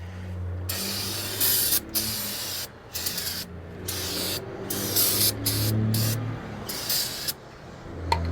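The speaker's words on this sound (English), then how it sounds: "take this drum, clean it up with some brake cleaner" Brake cleaner sprayed in repeated bursts onto a brake drum from a Kenworth cabover truck, sharp close hissing blasts separated by short pauses, with a low idling hum underneath.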